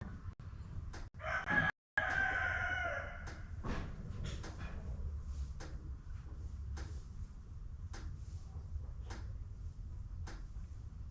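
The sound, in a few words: roosters crowing loudly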